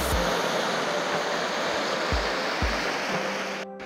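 Gentle waves washing onto the shallow sandy shore of Katase Nishihama beach near Enoshima, a steady close wash of surf with a few soft low thumps, no voices.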